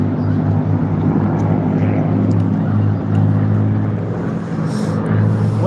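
Eurofighter Typhoon jet at an airshow in Blackpool, a steady, loud engine roar with a low droning rumble that holds throughout.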